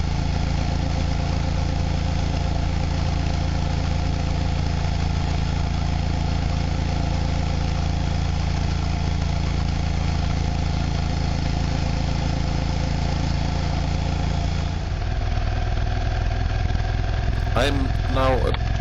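A motorcycle engine drones steadily and loudly while riding along a road toward the western edge of an island in Swedish Lapland, with a shift in tone near the end.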